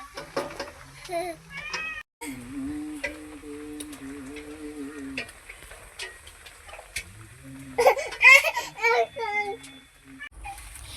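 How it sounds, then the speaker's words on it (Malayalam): A cat meows several times, rising and falling, with the loudest cries near the end, while someone talks intermittently. "ഇപ്പോൾ ഇതേ അപ്പുറത്തൊരു പൂച്ച വന്നിട്ടുണ്ട്."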